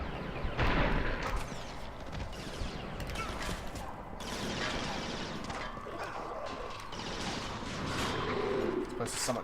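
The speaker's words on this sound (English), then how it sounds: "I'm using a sniper rifle." Gunfire from a sniper rifle in the video game Resistance: Fall of Man, a dense stretch of sharp, loud shots mixed with explosions and the clatter of close-range combat, with a voice talking over it.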